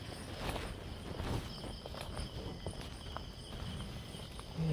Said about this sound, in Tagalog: Mga kuliglig lang maririnig na dito.